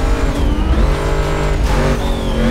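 A car races in the video game Need for Speed Carbon, the engine droning loud and steady with shifting revs and a brief squeal of tires, alone with no voices.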